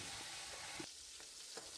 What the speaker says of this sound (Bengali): ফুলকপি আলু সবগুলো একটু শ্যালো ফ্রাই করে নেব